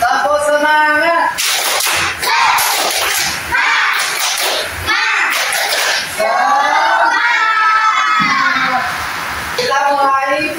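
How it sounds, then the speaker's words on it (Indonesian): A university classroom doing a rhythmic spirit clap, sharp patterned hand claps alternating with children's and students' chanting voices, loud and close throughout. "Sekarang kita tepuk semangat dulu lah."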